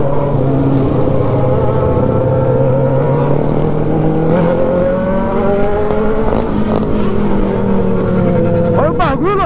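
A motorcycle with a Twister engine and twin exhaust pipes revs loudly nearby, its engine note climbing and wavering over a steady rumble, with people talking in the background.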